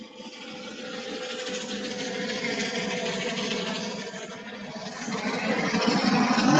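Helicopter taking off from a hospital, heard as a steady broad rotor-and-turbine roar that holds fairly level and swells louder toward the end, continuous with no talk.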